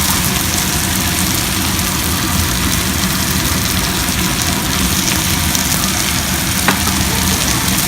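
Vegetables for a Hyderabadi restaurant-style vegetable pulao sizzle steadily in a hot pan, a dense continuous frying hiss with faint stirring scrapes, loud and close throughout.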